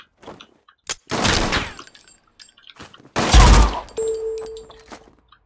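Gunfire in the video game RICO comes in two loud, dense bursts separated by quieter gaps, with a few isolated sharp cracks and a ringing tone after the second burst.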